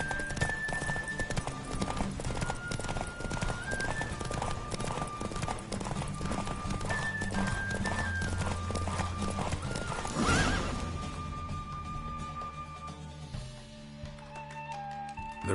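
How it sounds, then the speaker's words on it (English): Rapid, steady hoofbeats of a galloping horse racing in The Witcher 3 video game, close and continuous, with whinnies, game music and a faint voice in the background. "The Roach I chose put in a nice run."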